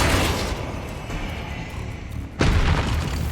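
Confringo fire spell cast in the Hogwarts Legacy video game, heard as a deep rumbling blast that fades, then a second sharp boom erupting near the end, loud and close.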